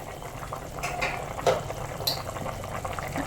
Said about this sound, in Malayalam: നല്ലപോലെ തിളച്ചിട്ടുണ്ട്. കഷ്ണങ്ങളൊക്കെ വെന്ത് കാണും.